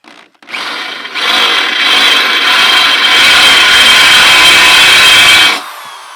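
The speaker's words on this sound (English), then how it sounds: "Rev up that drill." A power drill bores into steel during a skateboard grind box build, a loud steady high whine that starts with a short blip, ramps up after a second, holds for about four seconds, then cuts off.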